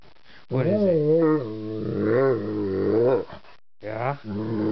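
A dog growls and grumbles in drawn-out, rising and falling bursts, close and fairly loud, with brief pauses between.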